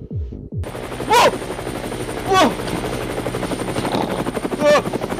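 A video game helicopter thrums with a steady rotor chop in the foreground, with gunfire rattling in bursts and short sweeping whooshes passing over it, loud and close throughout.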